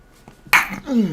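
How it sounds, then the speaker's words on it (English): A single person's sneeze bursts out abruptly and loud partway through, a sharp broadband blast trailing into a short voiced tail, with near silence before it. "Had to sneeze there."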